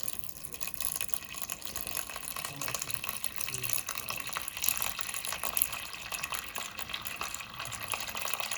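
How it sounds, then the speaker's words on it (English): Water runs steadily into a container of dried organic haricot beans, a continuous splashing pour with no clear break. "I'm just going to cover them in water and then leave them to soak overnight."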